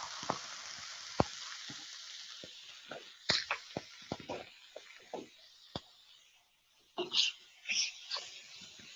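Riced cauliflower frying in olive oil in a pan, a quiet continuous sizzle broken by scattered pops and crackles, with a brief lull before the spitting resumes.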